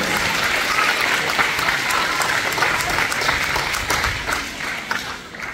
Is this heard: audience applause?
yes